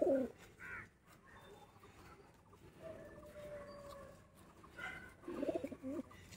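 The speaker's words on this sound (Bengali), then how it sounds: "ব্রিডার পায়রা এগুলো সব বাড়ি।" Breeder pigeons at a home loft giving quiet, throaty coos near and far, a soft call at the start and a stronger burst near the end, with faint background murmur between.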